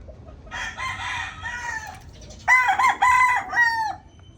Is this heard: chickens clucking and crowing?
yes